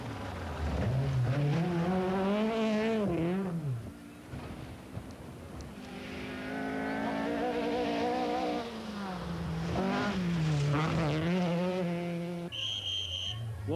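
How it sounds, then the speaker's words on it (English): A 1983 Group B Opel rally car races through a tiny village during the Acropolis Rally. Its engine screams as it climbs and falls through repeated gear changes at close range and loud volume. "Ari Vatanen's Opel is the first car through the tiny village of Lukesia."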